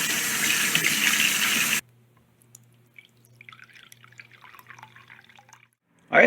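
Fresh water trickles and drips into a small tarantula water dish, a quiet, close and irregular splashing that follows a louder burst of running tap water and fades out before a brief noise at the end.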